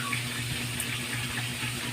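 Running water in a kitchen as squash pieces are put into a basin of water, a steady close hiss and splash with no talk.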